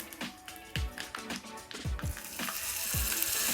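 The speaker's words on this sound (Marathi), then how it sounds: "ही मोहरी आपण टाकतोय त्याचबरोबर आपण एक चमचाभर अर्धा चमचा जिरे ते टाकतोय आपण त्याच्यामध्ये थोडासा हिंग आपण टाकून घेतो आहे" Mustard seeds, cumin and asafoetida hit hot oil in a pan, producing a crackling sizzle with sharp pops and taps over the first seconds that settle into a steadier hiss; no voices.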